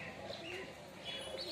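Pigeons, including young birds, coo softly and intermittently nearby, soft murmuring calls set against quiet background noise.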